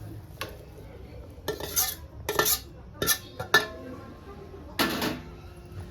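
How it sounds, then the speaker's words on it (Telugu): A spoon clinks and scrapes against a pan while ground gongura pickle is mixed into cooled tempering, coming as short separate bursts of scraping with quiet gaps between them. "పచ్చడి వేసి బాగా కలుపుకుందాం"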